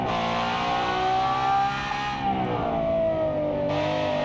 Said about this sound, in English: Another very loud car.